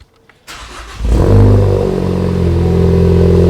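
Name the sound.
Ford Focus engine running with AWE Track Edition exhaust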